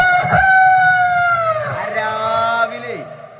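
Someone imitates a rooster, stretching out a single loud crowing call that bends downward at the end, close and clear.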